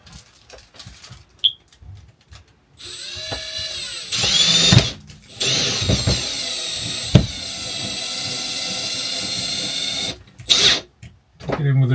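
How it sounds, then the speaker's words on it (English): A power drill bores pilot holes through the PVC shower wall of a 2010 Bailey Pegasus 462 caravan, loud close whining runs lasting several seconds, broken by short pauses and a few clicks. "it's best to put a pilot hole in"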